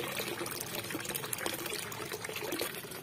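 Water gushes strongly into an aquascape-style pond, a steady broadband rush of flowing, splashing water that fills the whole clip without pause, close and constant.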